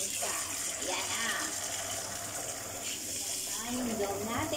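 Shower water runs steadily at close range while a puppy chihuahua is readied for its first bath, a continuous broadband spray with a voice talking over it.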